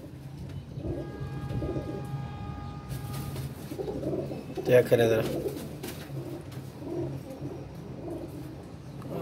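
Flying pigeons coo in soft, repeated low calls near at hand, with someone speaking briefly over them and a flutter of wings midway.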